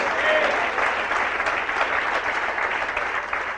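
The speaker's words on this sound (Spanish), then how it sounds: "Denle un aplauso al Señor." An evangelical church congregation claps together in sustained, even applause filling the sanctuary, with faint voices scattered beneath it.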